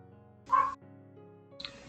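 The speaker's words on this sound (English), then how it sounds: "I don't know what he's barking at, but he obviously hears something" A dog gives two short barks about a second apart, fairly close, with a quiet background hum in between.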